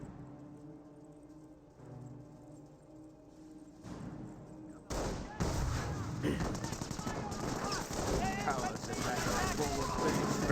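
Gunfire from the video game Company of Heroes 1 strikes Wehrmacht Grenadiers, starting with a quiet stretch and then bursting into dense rapid rattling volleys. A voice talks over the fighting.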